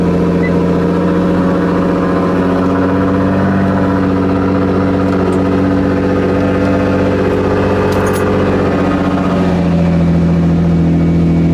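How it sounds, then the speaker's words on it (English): Nissan GTR engine idling steadily after a cold start, a loud, close, continuous low rumble with a constant drone and no revving or talk. "Quick cold start."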